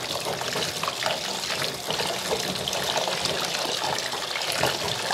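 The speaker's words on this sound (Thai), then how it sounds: "ไปล้างน้ำนะจ๊ะล้างน้ำให้สะอาด" Santol fruit being washed in water gives a steady trickling, splashing wash of liquid, close and continuous throughout with no talking.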